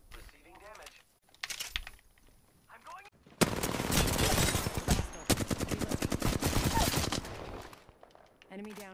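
Rapid automatic gunfire from the Apex Legends video game rattles in dense bursts for several seconds, loud and close, after a few scattered shots, while someone talks around it.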